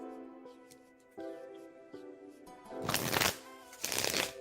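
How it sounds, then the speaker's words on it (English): Tarot cards are shuffled close up, with a few soft taps and riffles followed by two louder, dense bursts of card shuffling. "All right, Taka, I'm shuffling for you."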